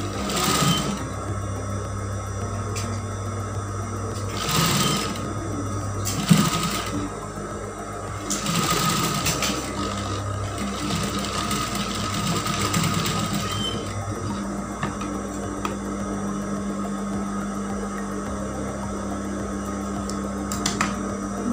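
A sewing machine stitches the seam of a fabric face mask in several runs, a buzzing hum broken by short bursts and pauses, close and moderately loud with no talk.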